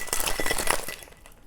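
A margarita is shaken hard in a cocktail shaker packed with big and cracked ice cubes, giving a loud rapid rattle of ice against the shaker walls that fades in the final moments.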